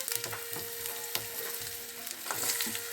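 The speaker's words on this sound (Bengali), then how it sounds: "এবার আমি এক এক করে সবজিগুলো দিয়ে দিচ্ছি আলুটা দিলাম" Potatoes, flat beans and eggplant fry in an oiled pan with a steady crackling sizzle, broken by stirring scrapes and clicks. No voices.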